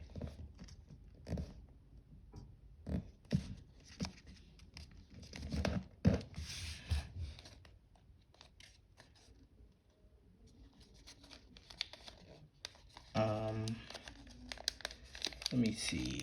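Paper being folded into an origami jet modelled on the Dassault Rafale, soft crinkles, creases and rustling taps close by, with a person talking intermittently over the paper sounds.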